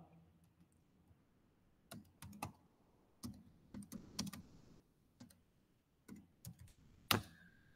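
Irregular bursts of keystrokes on a computer keyboard as a name is entered, quiet and close, with short pauses between clusters of clicks and no talking.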